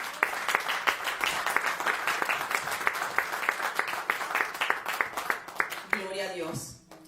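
A church congregation gives a steady burst of applause for the Lord, dense clapping for about six seconds before it fades into a brief spoken voice at the end.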